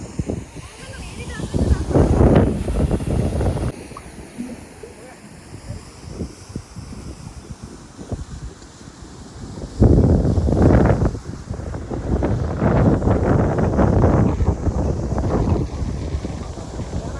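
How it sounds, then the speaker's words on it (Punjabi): Strong gusty mountain wind at Swarovski Kristallwelten in Wattens, Austria, buffets the microphone in heavy roaring bursts, easing briefly in the middle before surging again. "ਹਵਾ ਬਹੁਤ ਚੱਲ ਰਹੀ ਆ ਪਹਾੜਾਂ ਕਰਕੇ ਨਾ ਹਵਾ ਚੱਲਦੀ ਪਈ ਹੈ ਕਾਫੀ"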